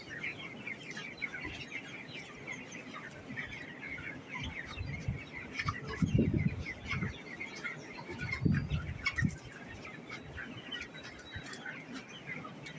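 Chickens of a good breed on a poultry farm cluck and chirp continuously at moderate distance, with a few louder bursts of clucking rising above the steady flock murmur.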